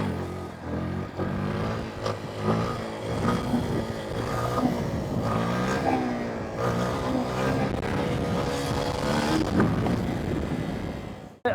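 A 125cc motorcycle in second gear revs hard for a clutch-up wheelie, its engine droning steadily and loudly throughout with rising and falling pitch and wind rush.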